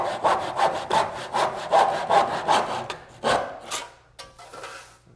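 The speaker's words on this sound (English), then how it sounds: "you can use a handsaw to trim the casing to length" A handsaw cuts through wooden door casing to trim it to length, giving a rhythmic series of close, rasping back-and-forth strokes that slow and stop near the end.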